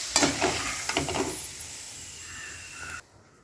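Papad and bhaji frying in hot oil while puran is prepared for Gudi Padwa, a steady close sizzle with scattered crackles and stirring that cuts off abruptly near the end.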